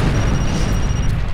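A compressor blowing up in the video game Far Cry 2: a loud, dense, sustained boom that rumbles heavily through the whole moment, with a faint steady tone running above it.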